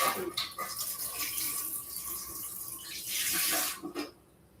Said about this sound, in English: I could just add hot water to it straight from the sink.